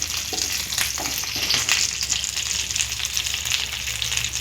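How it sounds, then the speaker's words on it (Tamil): Curry leaves crackle and sizzle in hot coconut oil for a murrel fish fry. The steady, close frying hiss carries a few sharper pops and stirring sounds, with no talking. "இப்போ கருவேப்பிலை சேர்த்துக்கலாம். இந்த எண்ணெயிலேயே இந்த கருவேப்பிலை சேர்த்தோம்னா"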